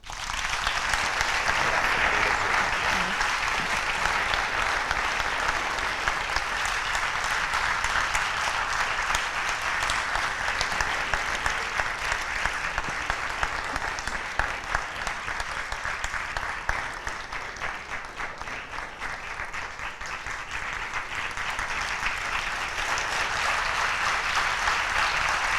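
Long, steady audience applause for choirs at a regional choral festival's closing concert rolls on for about twenty-five seconds, dense and even, fading slightly near the end before swelling again.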